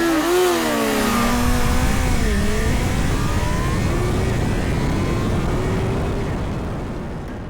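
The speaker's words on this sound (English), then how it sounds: "let's do a little drag race between the two of them" Honda CB1000 Hornet motorcycles in a drag race against a Yamaha MT-10 and Suzuki GSX-S1000, their engines roaring loud and close as they accelerate hard through rising gears, then fading slightly toward the end.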